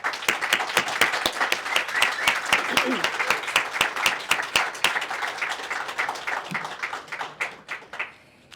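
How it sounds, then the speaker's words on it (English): An audience at a motel wallbreaking ceremony gives a round of applause, dense steady clapping from a crowd that lasts several seconds before thinning out at the end, with some voices mixed in. "if we could now give everyone a round of applause"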